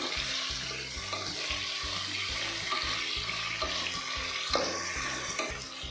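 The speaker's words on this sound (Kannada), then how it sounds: "ಆನಿಯನ್ ಫುಲ್ ಸಾಫ್ಟ್ ಆಗೋವರೆಗೂ ಚೆನ್ನಾಗಿ ಫ್ರೈ ಮಾಡ್ಕೋಬೇಕು." Onions fry in a pan for chicken biryani, giving a continuous close hiss and crackle over a low, steady tonal background, with no talk.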